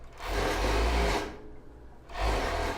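A sewing machine stitches a seam on a plus-size bra with a wide strap, running in two loud, steady bursts separated by a short pause, with no voices.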